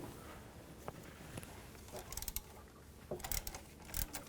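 A ratchet cranks on a 12 mm adjuster bolt on the power steering pump of a 1999-2003 Toyota Solara, giving quiet, close metallic clicks and a few sharper bursts of ratcheting, with faint shuffling around the work.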